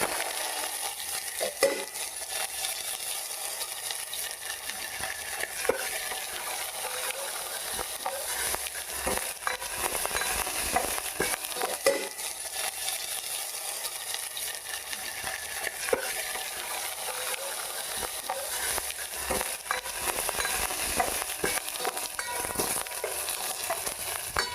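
Onions, chana dal, cumin, mustard seeds and curry leaves fry in hot oil as a tempering for bakshala charu, a steady close sizzle with stirring and scraping throughout, no voices.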